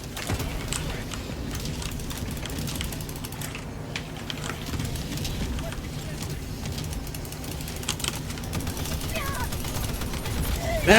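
Napalm barrage in a video game, a dense sustained rumble of rapid overlapping blasts and crackling fire that runs continuously throughout, with game sounds layered on top.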